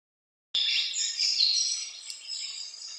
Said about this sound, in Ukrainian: Так, діти це співають пташки.